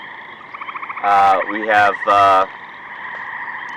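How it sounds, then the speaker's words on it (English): Gray tree frogs call in a Great Lakes wet prairie: three loud, close trilling bursts stand out over a fainter chorus of frogs, with a brief spoken phrase near the start. "These are gray tree frogs that you hear calling in the background"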